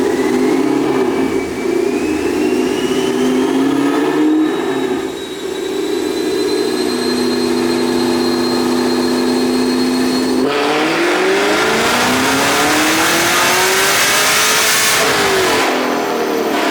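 A 2021 Camaro SS V8 with headers, cold air intake, E85 tune and Borla mufflers revs hard and loud, its roaring exhaust rising and falling through sustained pulls, with a sharp climb near the end and no talking.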